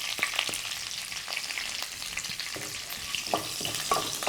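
Cumin, mustard seeds, chana dal and curry leaves crackle and sizzle steadily in hot frying oil for a Telugu mixed vegetable curry, with scattered sharp pops over a constant hiss.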